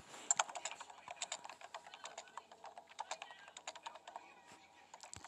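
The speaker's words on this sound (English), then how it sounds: "the typing animation is so much better" Computer keyboard typing during a Roblox game of Flee the Facility: rapid, irregular key clicks patter steadily for about five seconds, quiet and close, with no talking.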